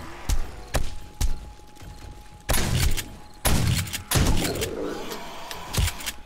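An automated turret fires in the survival game 7 Days to Die, with a series of sharp, loud shots in irregular bursts and several heavier blasts among them, standing alone without talk.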